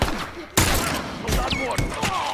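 Sniper gunfire in The Last of Us multiplayer, a sharp loud shot followed by more gunfire and impacts, close and under excited talk from a player.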